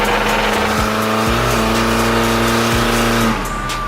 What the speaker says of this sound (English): That sound is the drive shaft hitting the transmission tunnel